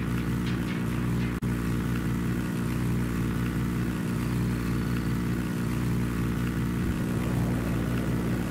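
A helicopter in Ghost Recon Wildlands drones with a loud, continuous rotor-and-engine roar that holds steady throughout, a few low thumps breaking through.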